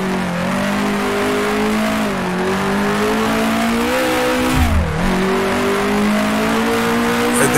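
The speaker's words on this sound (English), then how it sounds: "It's just the narrow power band of the Climax engine." A 1966 Formula One car with a Coventry Climax engine racing in Grand Prix Legends at the German Grand Prix, a loud, continuous, high-pitched engine wail rising and falling through frequent gear shifts, close and alone.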